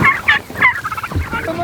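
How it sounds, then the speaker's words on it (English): Homestead turkeys gobble in a rapid, burbling series of calls, loud and close, with no talk over them. "These turkeys are going through food and water like crazy."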